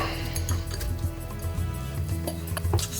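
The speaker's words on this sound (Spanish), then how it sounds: "Removemos poco a poco y cuando todo esté derretido" A spoon stirs a thick cheese sauce of melted gruyère and cheddar in a pot, giving close clinks and scrapes of metal against the pot over a steady low hum.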